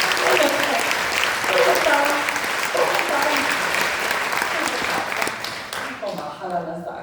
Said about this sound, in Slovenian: dajte še en aplavz